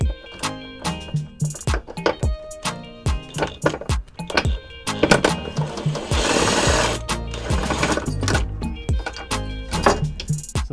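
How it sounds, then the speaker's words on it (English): Bolts on the fuel tank straps of a Porsche 911 are undone with a rapid ratcheting power tool, giving loud close bursts of fast mechanical chattering that start and stop repeatedly, with a longer whirring stretch midway. "there is a 13 mil bolt each side that needs to be undone"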